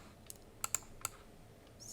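Three or four light, sharp clicks of a single key being pressed on a spare computer keyboard used as a trigger, brief and fairly faint in a quiet room.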